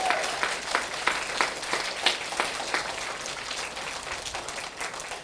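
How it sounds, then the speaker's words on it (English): An audience applauds two people at a school reading event, a moderately loud spread of clapping with a few distinct claps near the front, slowly easing off toward the end. "how about we give them a big round of applause for what they do for you."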